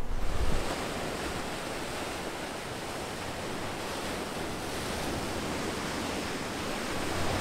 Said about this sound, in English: Sorry, the waves are really loud, but it's just like this lovely rocky beach.